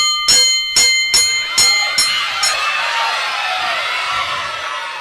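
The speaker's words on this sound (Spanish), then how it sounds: "después de que suena ese bendito timbre" A school bell rings in about six rapid metallic strikes, loud and close, then gives way to a rising crowd of children shouting and cheering.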